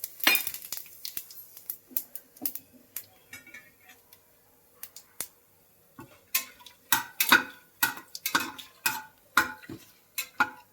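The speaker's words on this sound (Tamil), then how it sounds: "நான் இந்த ஸ்பைசஸை இதில் போட்டுடுறேன்." Whole spices dropped into hot oil for mutton biryani crackle and pop in quick, irregular bursts, with sparse ticks at first that grow denser and louder later on.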